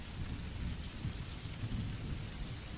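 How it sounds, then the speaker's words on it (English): Steady rain taps against windows with low thunder rumbling underneath, a constant dense wash of sound with no voices. "the steady rain tapping on the windows"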